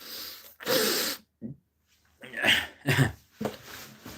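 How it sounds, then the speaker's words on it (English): Harsh, breathy coughs come in irregular bursts: one long fit, a brief catch, then a cluster of several close coughs, loud and near with no speech. "Your throat's probably dry from all the coughing."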